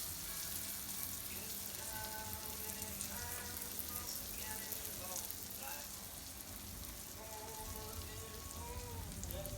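Garlic bread with butter and a spread on top frying in a pan over a low flame, a steady soft sizzle and crackle running throughout at an even level, with faint background voice.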